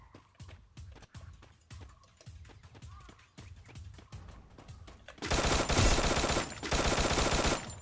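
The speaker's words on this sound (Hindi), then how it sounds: "यहां पे एक और बंदा साइलेंसर चला रहा है" Suppressed gunfire from a silenced weapon in Free Fire pops in a quick, even rhythm of soft shots, then gives way to a much louder, dense roar of game sound near the end.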